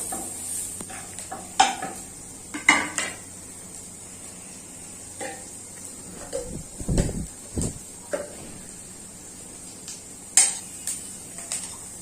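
Cabbage and carrot lightly frying in a pan while being stirred, a quiet faint sizzle broken by intermittent utensil scrapes and knocks against the pan.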